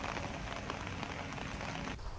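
Continuous heavy rain patters and hisses densely over surfaces in an urban residential area of Samastipur, a steady, even wash of sound with no voices.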